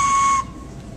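A seventh grader blows a whistle in one short, shrill, steady blast that cuts off abruptly, leaving a faint background hiss.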